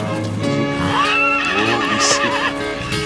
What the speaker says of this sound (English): Get away from the horse!